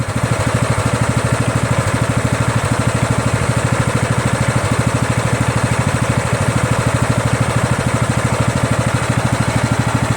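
The engine of a Craftsman LT1000 lawn tractor runs steadily nearby, a loud, even idle with a rapid regular pulse throughout and no talking.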